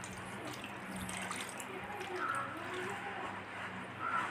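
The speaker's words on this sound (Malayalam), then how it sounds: "ലേശം വെള്ളം ഒഴിച്ചു കൊടുക്കാം." A little water poured onto jaggery in a pan to melt it, a steady soft splashing trickle heard close up with faint kitchen noise and no talking.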